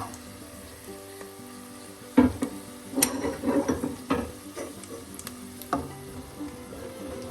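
Three beaten eggs hitting a hot pan beside sautéed onion and garlic, a steady sizzle broken by scraping and clattering stirring bursts from a spatula, close and fairly loud.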